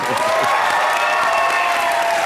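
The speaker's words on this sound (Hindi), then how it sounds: "शाहरुख सर के लिए जोरदार ताली" Studio audience at a television comedy show applauding Shah Rukh Khan, loud steady clapping with some cheering and a faint whistle-like tone, continuous throughout.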